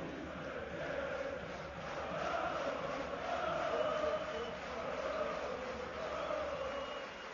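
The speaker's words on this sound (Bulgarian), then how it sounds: "Аплодисменти за младия вратар на Локомотив." Football stadium crowd in a Lokomotiv Sofia versus Levski match applauds the young Lokomotiv goalkeeper, a distant, steady wash of clapping and crowd noise swelling and easing, under faint commentary.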